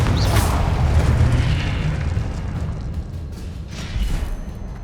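A Confringo blast spell detonates in the video game Hogwarts Legacy, giving a loud booming explosion with a deep low rumble that sustains and slowly fades, plus a second swell near the end.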